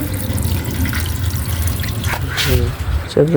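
Water poured onto a newly planted flower plant, a close steady splashing and trickling with a few drips, with a voice talking over it.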